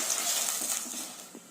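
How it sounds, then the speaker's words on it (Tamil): Water pours with a soft gush into a pan of onion and tomato for a poppy seed gravy, faint and close, fading off after about a second. "கொஞ்சம் வந்து தண்ணி விட்டுக்கலாம்"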